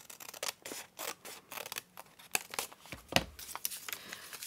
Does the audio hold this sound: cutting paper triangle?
yes